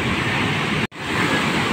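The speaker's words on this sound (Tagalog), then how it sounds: "Pasok na ang tubig." Sea waves surge into a beachside cottage, a loud continuous roar of rushing water and surf filling the space, broken by one very brief dropout near the middle.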